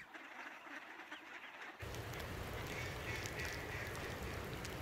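Ducks being fed sunflower seeds, peanuts and flax seeds on a snowy day near Victoria, heard as a cluster of quacks from the flock over steady outdoor rumble that grows louder partway through.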